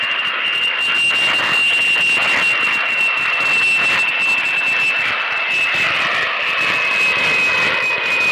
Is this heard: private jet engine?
yes